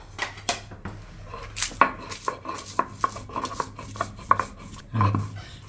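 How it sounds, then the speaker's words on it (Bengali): Dried red chillies being ground by hand for a coriander bhorta, with repeated sharp knocks and scraping strokes of stone on stone in an irregular rhythm, close and fairly loud, no talking. "প্রথমে শুকনা মরিচটা বেটে নিব।"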